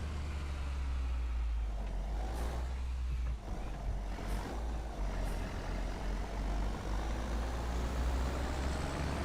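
Steady diesel roar of a Mercedes tractor driving in Farming Simulator 25, a constant close rumble with heavy low-end hum and a few faint higher clicks over the top, running unbroken throughout.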